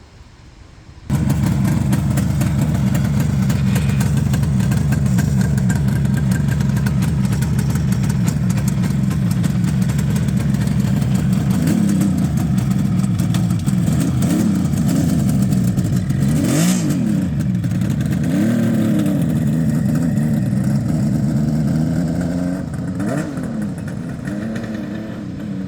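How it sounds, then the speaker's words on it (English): A 1969 Kawasaki Mach III 500 three-cylinder two-stroke motorcycle engine idles and revs loudly up close, its buzzy rasp rising and falling steadily throughout. "I know what that sound is. That's a 3-cylinder 2-stroke."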